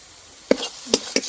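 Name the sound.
stirring motichur laddu mixture with ghee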